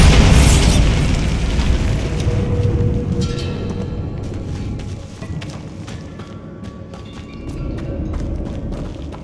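A Bombarda spell explosion in the Hogwarts Legacy video game bursts loudly at the start, then decays into a long rumbling tail with scattered debris and clattering sounds.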